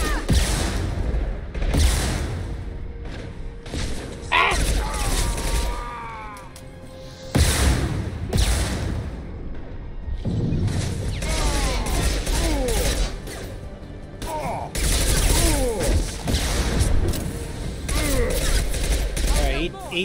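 Repeated bursts of gunfire in the video game Mass Effect 2 crack out loudly across a busy combat soundscape, mixed with mechanical clanks and impacts, while a voice talks at times between the volleys.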